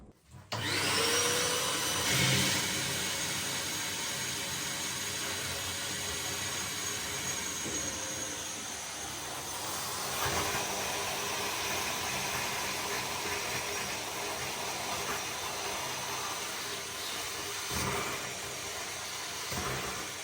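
A wet vacuum runs steadily for about twenty seconds, sucking water out of a waste drain after a panel has been removed. The loud, continuous roar holds at an even level with slight dips and no talk.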